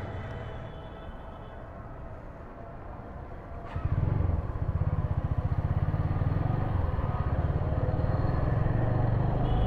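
A motorcycle engine idles low, then revs up around four seconds and holds a steady, rumbling drone as the bike rides on a rainy morning, close and fairly loud.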